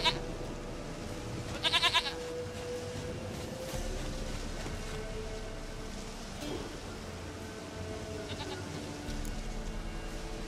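A goat in The Witcher 3: Wild Hunt bleats briefly and faintly over a continuous hiss of outdoor game ambience, with a few soft later cries, and no one talks.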